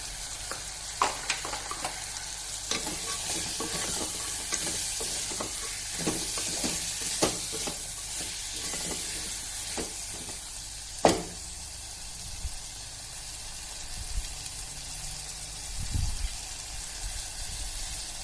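Peas and field beans cooking in tomato in a pan: a steady sizzle and frying hiss with soft scraping stir sounds and one sharper clank, fairly close and moderate in level, without talk.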